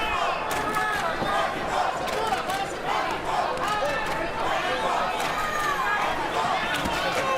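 A boxing arena crowd at the Barclays Center keeps up a dense, steady roar of cheering and shouting through the whole stretch, with commentary voices talking over it.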